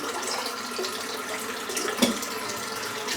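Tap water runs steadily into a sink while a razor is rinsed under it, a close, even splashing hiss. Near the end there is one small clink.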